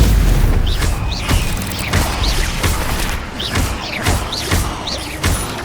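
Repeated Incendio fire spells cast in Hogwarts Legacy, a rapid series of whooshing bursts and thuddy impacts about every half second, loud and close over a busy combat rumble.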